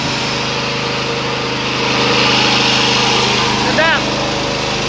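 A KD550HM multifunction rice milling machine runs with a steady, loud engine drone and mechanical whir throughout, swelling slightly midway, with a brief squeaky chirp near the end.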